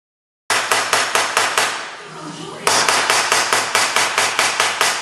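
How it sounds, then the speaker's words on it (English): A hammer beats steadily on the steel inner brace of a 1968 Camaro being bent, loud, close, evenly spaced metallic blows at a quick regular rhythm, pausing briefly in the middle before resuming at the same pace. "That's the way to do it with a hammer."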